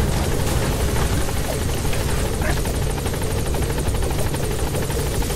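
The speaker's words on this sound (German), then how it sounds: "wenn der Hubschrauber im Landeanflug ist" A helicopter comes in to land in the video game Metal Gear Solid V, its rotor a loud, continuous close-up thrum with rapid blade chop throughout.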